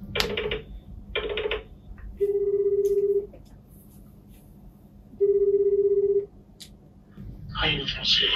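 An outgoing phone call ringing back through a handset speaker, two long electronic ring tones separated by a pause, with short tones at the start and people talking in between and afterward.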